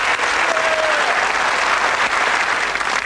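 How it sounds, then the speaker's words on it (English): A studio audience applauds both teams at the close of a 1993 UK Cluedo game show, dense steady clapping filling the whole stretch at a loud, even level. "So, a big round of applause to both teams, please."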